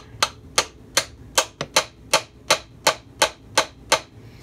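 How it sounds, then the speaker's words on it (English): About eleven sharp, evenly spaced taps ring out as a Kawasaki KE100 motorcycle engine case is gently knocked to split it, each crisp metallic hit close and clear against a quiet workshop background. "I'm just gently tapping."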